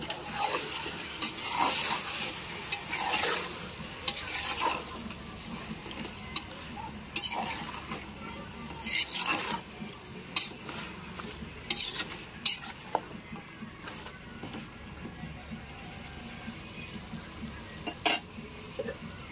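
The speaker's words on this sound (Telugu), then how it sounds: "మొత్తం ఒకసారి కలుపుకుందాం." Chicken curry with fresh curry leaves is stirred in a pan, giving repeated scraping clinks of a spoon on metal over a soft continuous sizzle, with brief murmurs of talk.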